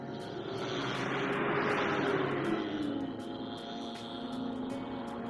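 Hubsan Zino Pro drone flying overhead outdoors, a steady whirring buzz swelling slightly then holding, with faint periodic ticking clicks above it.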